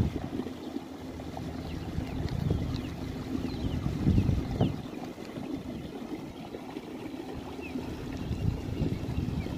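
An Old Town Sportsman Autopilot 120 kayak driven by a Minn Kota motor cruises along at about 4 mph, with a steady low motor hum, water wash and wind noise running continuously with no talk.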